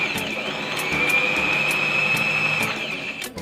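A sewing machine winds a bobbin with a steady whirring motor hum and a faint high whine, broken by evenly spaced light ticks, then slows and stops near the end.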